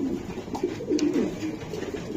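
Racing pigeons coo in soft, throaty bursts at close range, a low rolling burble rising and falling over a few seconds amid faint room noise.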